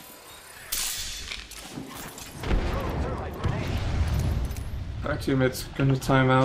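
A grenade goes off in a first-person shooter video game with a loud, rumbling blast followed by a lingering noisy tail, while players talk over it.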